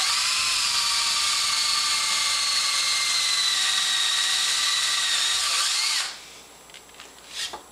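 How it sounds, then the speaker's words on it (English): A power drill bores a hole through wood resting on a scrap piece for a middle bar frame, a loud steady whine for about six seconds that cuts off, followed by a few light knocks. "And then we can drill our holes."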